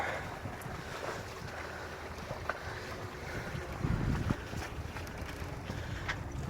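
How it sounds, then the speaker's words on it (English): Sailboat SV Pegasus under way on a beam reach, with steady wind rush across the microphone, water washing along the hull and occasional creaks of rigging, a brief louder gust near the middle. "We're sailing."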